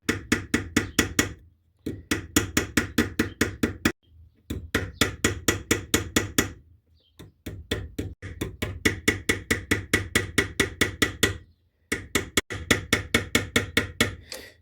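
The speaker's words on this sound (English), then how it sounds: "And there I'm going to pull dent with the hammer" Rapid, steady metallic tapping of a hammer pulling a dent in a vintage Tourist camp stove, in bursts of many light strikes, with short pauses between runs, close and clear.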